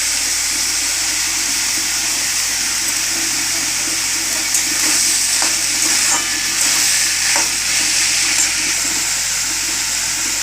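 Fried potatoes are stirred into banana flower curry with chickpeas in a pan, a steady sizzle and hiss of frying with a few scraping clinks of the spoon toward the end.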